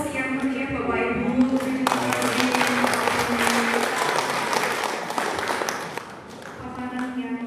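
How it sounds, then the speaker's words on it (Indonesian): Audience at a school training event in a high school hall bursts into warm applause, dense clapping that swells after a spoken voice and fades as talk resumes. "Aplaus yang meriah Bapak Ibu"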